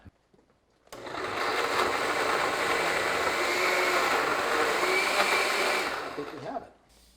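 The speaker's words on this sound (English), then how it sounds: "So now we go back to the blender." A loud motorized whir starts abruptly, holds steady for about five seconds, then cuts off, like a blender running on high.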